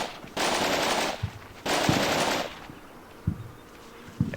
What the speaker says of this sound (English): Still some gunfire happening, but I don't see where it's coming from,